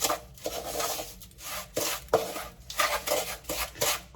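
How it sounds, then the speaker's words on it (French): Speculoos cookie crumbs stirred with melted butter and a pinch of salt in a bowl, a steady rough scraping and rubbing of a spoon against the dish in repeated strokes, close and alone. "Je remue ça pour avoir un mélange bien homogène."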